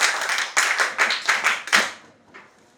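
A classroom of students claps for a classmate in a few quick bursts of close, lively applause that thin out and fade, with a brief scattered clap at the end.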